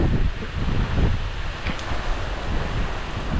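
Heavy rain and gusting wind sweep across the Goundaru hills near Courtallam, a dense continuous roar with buffeting low rumble against the microphone throughout.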